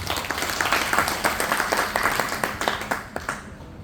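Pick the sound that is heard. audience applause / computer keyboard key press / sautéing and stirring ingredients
audience applause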